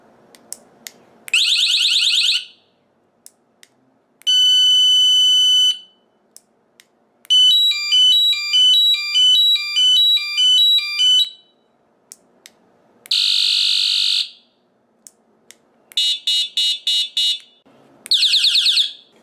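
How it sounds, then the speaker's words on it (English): A series of distinct electronic tones from an SB-219 six-sound bicycle horn, each burst a different pattern: steady beeps, warbling trills and rapid chirps, loud and close with short pauses between. "this is a multi-sound horn, so you can change the sounds"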